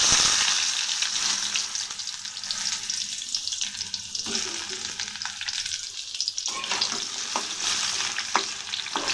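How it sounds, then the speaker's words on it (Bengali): Vegetables frying in oil in a kadai for a summer shukto, a busy crackling sizzle with repeated stirring clatter and scraping that runs the whole time, close and fairly loud with no speech. "কড়াতে তেল দিয়ে দিয়েছি, এখন আমি ওই বাকি সবজিগুলি ভেজে দিচ্ছি"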